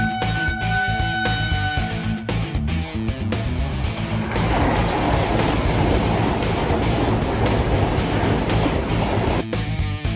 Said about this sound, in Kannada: ಒಂದೇ ಬರೋ ಟ್ರೈನ್ ಬರ್ತಿದೆ ನೋಡಿ